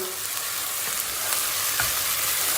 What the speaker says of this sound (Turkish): Arkadaşlar salçamız iyice kavruldu. Tencerenin dibine yapışmaya başladı.